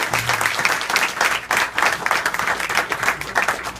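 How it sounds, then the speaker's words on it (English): Wedding guests applaud at a reception toast for Dan and Jenny, a dense, steady round of many hands clapping close by, lasting several seconds without pause. "So let's give a round of applause for everybody who put this together first off."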